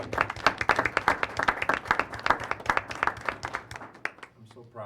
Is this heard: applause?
yes